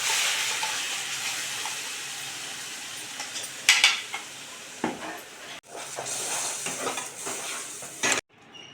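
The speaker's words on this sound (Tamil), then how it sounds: "இப்போ அரைச்சி வச்சுருக்க பேஸ்ட்டை ஊற்றிக்குவோம்" Ground masala paste for kadai paneer butter masala hits a hot kadai and sizzles steadily, with a spoon scraping and clinking against the pan between bursts of frying.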